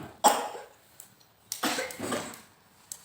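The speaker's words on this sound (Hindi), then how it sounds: "खांसी भी हो रही है बेचारे को" A few short coughs from a baby, one sharp cough near the start and then a cluster of raspier coughs, close by with quiet room noise between.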